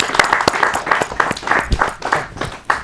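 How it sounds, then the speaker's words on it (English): Applause from a small audience after a poetry reading, sparse, close hand claps with a loose uneven rhythm, rising and falling over a few seconds. "give Marc another round of applause for his great poetry"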